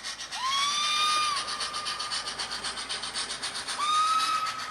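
An HO scale model steam locomotive, the Titfield Thunderbolt, gives two rising whistle toots separated by a steady rhythmic chuffing hiss, close and clear.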